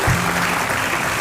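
Studio audience on an Indonesian TV talk show applauds a young inventor, a short loud burst of clapping.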